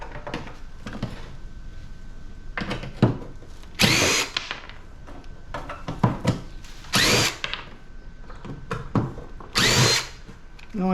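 A power drill backs screws out of a scrapped air-conditioning unit, several loud short whirring bursts with metallic rattles and handling clatter between them.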